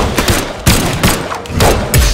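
Video game guns fire repeatedly in a quick, uneven burst of sharp, loud shots over about two seconds.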